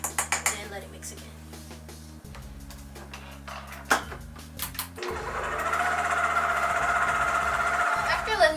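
An electric mixer churns cookie dough with a rhythmic mechanical whir, starting with a few short bursts and clunks, then running steadily louder, while a voice talks over it.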